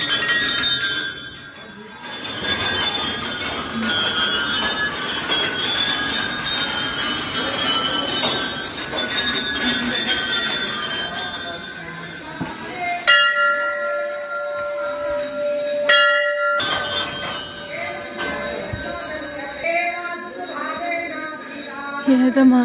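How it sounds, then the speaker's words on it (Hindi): Many metal temple bells ring at once at the Kokila Mata temple in the hills, a dense, continuous clanging with bright ringing overtones that breaks off briefly twice before resuming, with no talking. "पूरी घंटियां लगाई हैं।"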